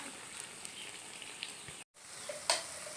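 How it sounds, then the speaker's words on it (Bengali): Raw banana chops frying in hot oil give a faint, steady sizzle with small crackles and pops. There is one brief dropout partway through. "সব কলার চপগুলো ভাজা হয়ে গেল।"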